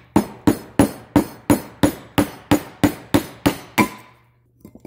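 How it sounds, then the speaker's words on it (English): Hammer knocking a rusted front brake pad loose on a 2011 Subaru Outback, eleven sharp metallic strikes in a steady, even rhythm, loud and close, followed by a brief quieter pause. "Grab a hammer"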